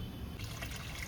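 Water poured from a mixer jar into simmering poppy seed payasam gives a soft, close trickle and splash that swells slightly midway, with no talking.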